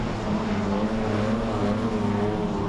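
Ford and Holden race cars at Archerfield roar past in close formation, a loud, sustained engine drone with layered exhaust tones and no voices.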